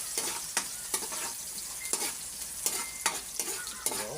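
Garlic and ginger frying in a pan while being stirred for chicken adobo sa gata, with a steady sizzle under sharp, repeated scraping strokes of the spoon every half second or so, close up and with no talking.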